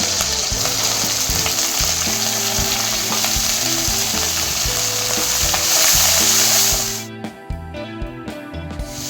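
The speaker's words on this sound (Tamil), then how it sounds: "இப்போ நம்ம வெங்காயம் சேர்த்துக்கலாம்." Onion frying in a pan with green chilli for a savoury kozhukattai dish, a loud close sizzle with stirring, over a steady background of rhythmic music, the sizzle cutting off near the end.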